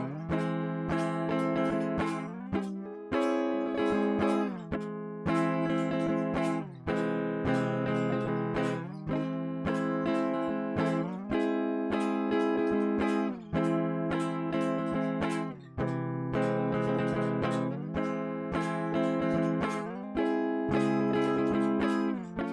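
Guitar chords strummed in a steady rhythm, each chord ringing briefly before the next change, played close and clear with no talking.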